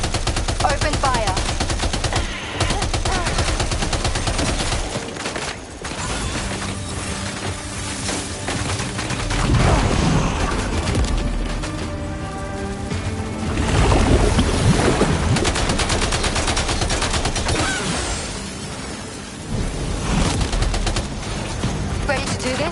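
Dense, sustained gunfire from the video game Death Stranding 2 crackles in rapid bursts over a loud rumbling bed of engine and water-like noise, with brief pauses and voices mixed in.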